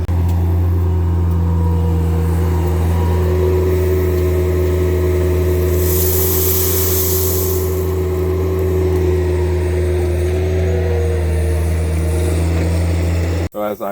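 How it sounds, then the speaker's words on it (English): Skid steer loader backfilling soil beside a basement at a home build, its engine droning steadily and loud up close for the whole stretch, with a brief hiss of hydraulics midway and a clunk at the end. "Having the skid steer so close to the basement like that makes me nervous."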